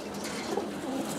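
Desi Giribaz flying pigeons give a short, soft burst of low cooing nearby, with a faint murmur of other birds behind.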